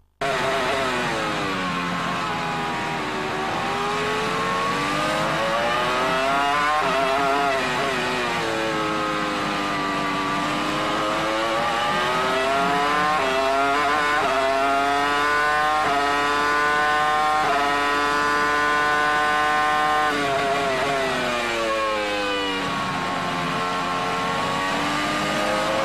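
Onboard sound of a 2002 Formula One car at Hungaroring practice: a loud, high-pitched engine screams continuously, its pitch swooping up and down through gear changes as it brakes and accelerates through corners.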